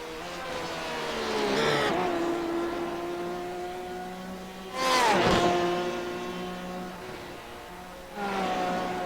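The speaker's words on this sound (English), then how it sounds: "Well, lock up into turn 1 for Finzo before clipping that." A sports car in a sim racing game at Lime Rock locks its brakes into turn one. Loud engine tones drop through sharp downshifts, with a brief tyre screech mid-clip, then the engine climbs again near the end.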